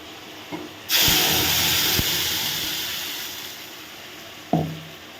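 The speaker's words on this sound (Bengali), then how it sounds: "এই ধনেপাতা বাটাটা আমি দিয়ে দেব কড়াইতে" Ground coriander-leaf paste hits hot oil in a karahi with a sudden loud sizzle that gradually settles into a steady hiss, punctuated by a few sharp clinks of a spoon against the pan.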